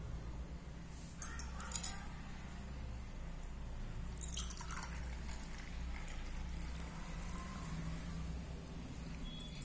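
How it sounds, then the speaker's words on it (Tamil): Water poured from a glass into maida flour to make homemade glue, heard as a couple of short splashy bursts over a steady low hum, with no talking. "ஒரு கிளாஸ் வாட்டர் சேர்த்துக்க போறோம்."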